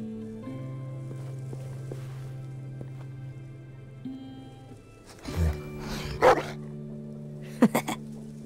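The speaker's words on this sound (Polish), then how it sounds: "Ty co szczekasz?" A dog barks in The Walking Dead: The Final Season video game, with a few sharp barks and whimpers coming after a stretch of quiet background music.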